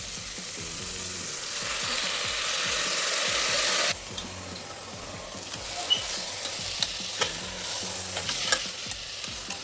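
Barnyard millet rice and potato stirred in a hot pan for a fasting dish: a loud, steady sizzle with scraping spoon strokes, the hiss easing after a few seconds into quieter frying with sharp clinks of the spoon.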